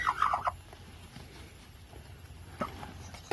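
An Aseel mother hen sitting on a clutch of eggs gives short, throaty clucking bursts at the start and again at the end, fairly faint and close, with quiet rustling between and no speech.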